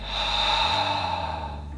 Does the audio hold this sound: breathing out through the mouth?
yes